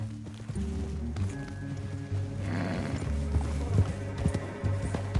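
Horse hooves clip-clop steadily at close range in the game Red Dead Redemption 2, with a horse snorting or whinnying amid continuous background noise.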